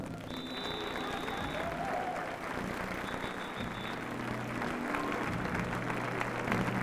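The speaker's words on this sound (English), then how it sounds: "take a nice round of applause" Steady crowd applause at the 1994 Miss Continental pageant greets the fifth runner-up, heard somewhat distant and muffled, with faint music and crowd noise mixed in throughout.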